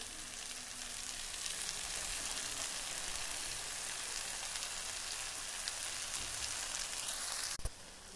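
Chowmein noodles fry in a hot pan, giving a steady, dense sizzle that stays close and even throughout, with a brief sharp clatter near the end.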